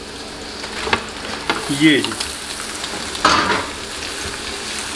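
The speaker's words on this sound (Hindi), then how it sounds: "अब इसमें हम डाल लेते हैं ये चिकन सारा का सारा" Chicken sizzles in hot sheep tail fat at a Pakistani street food stall, a continuous close frying hiss with scraping stirs and clatters as the meat goes in, while someone speaks briefly over it.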